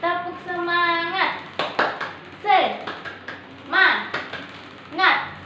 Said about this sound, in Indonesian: Ya, kita lakukan sekali lagi. Tepuk semangat.